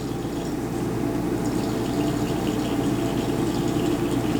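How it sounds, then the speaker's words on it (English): Liquid pours steadily into a glass buret to rinse it, a continuous close trickling and gurgling rush with no breaks, alone without voices. "He's just going to put about 10 mils in just to rinse it out."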